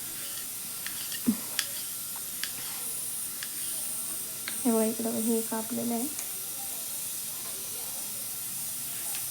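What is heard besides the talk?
pressure cooker hissing steam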